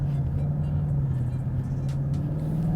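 A 2018-2023 Mustang GT idles with a Corsa 3-inch active cat-back exhaust in quiet mode, a low, steady exhaust rumble, subdued and constant, close by with no other sounds.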